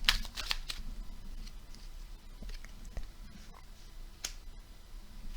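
A deck of tarot cards is shuffled close by, with soft continuous riffling and a few sharper snaps of cards, fairly quiet.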